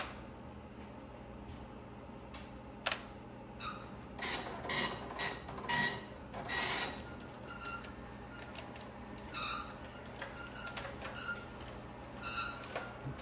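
A Tandy DMP-133 dot matrix printer chatters in bursts of rapid mechanical buzzing and clicking, with brief pauses between the printed lines, close and fairly loud.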